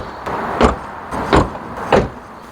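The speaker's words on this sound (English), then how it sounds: "Let's make sure the doors all sound good when you close them." Three solid thumps of an MG ZS's car doors being shut, evenly spaced about two-thirds of a second apart, close and distinct over a quiet background.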